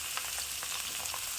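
Flat beans frying in a pan, a close, steady sizzle with soft stirring scrapes and small pops, quiet and without speech.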